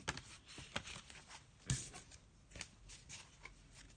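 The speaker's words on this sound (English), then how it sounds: "I'm going to be having a shuffle of the Faulkner Tarot deck" A Faulkner tarot card deck being shuffled close up, soft irregular riffles and papery flicks with a sharper snap midway, quiet with no talking.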